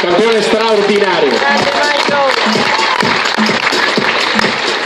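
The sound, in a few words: audience applause for team player at presentation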